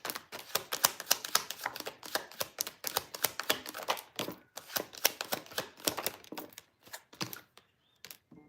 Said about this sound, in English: I'm going to just let a couple of these cards come out.